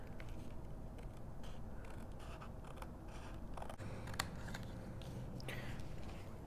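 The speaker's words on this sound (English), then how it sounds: "now I'm just gonna cut out on either side." Scissors cutting paper for a waterfall folio, faint snips and crisp rustling close by in a quiet room, with a few sharper clicks scattered through.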